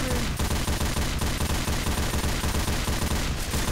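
Dense, continuous rapid gunfire from Left 4 Dead 2, loud rattling bursts throughout with no pause.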